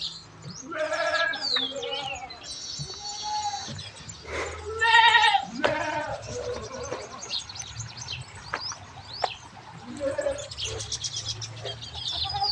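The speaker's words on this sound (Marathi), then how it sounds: "हे पहा आपल्या शेळ्या त्यांचे पिल्ले" Several goats and young kids bleat one after another, some high and thin, others deeper, with quieter gaps and faint chirps between calls.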